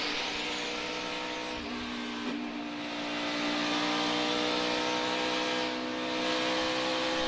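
NASCAR Xfinity race cars roar around the Dover oval in a dense, sustained engine howl. The pitch and loudness swell slightly as the pack passes, and no voices come through.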